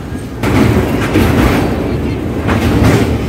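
A passenger train rumbles across the 2.1 km Mahanadi river bridge, heard from on board as a loud, steady roar with rhythmic rattling and clatter of the wheels.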